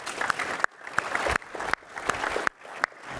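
An audience at a developer conference session claps in sparse, scattered bursts, with a few sharp claps every half second or so over quieter room tone.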